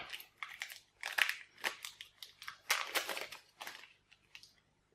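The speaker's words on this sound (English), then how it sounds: "This is the stylus. Let's unwrap." Plastic packaging around a Wacom Intuos stylus is crinkled and torn open at close range in a rapid series of crackling, crumpling bursts that stop abruptly near the end.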